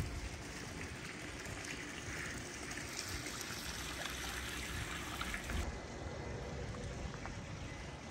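Water trickles and bubbles steadily in a backyard hot tub beside a pool, a soft continuous close-up gurgle with no voices.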